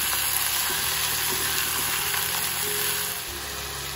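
Ivy gourd curry with coriander being stirred in a hot pan, giving a steady close sizzle with faint scraping strokes throughout, and no talking.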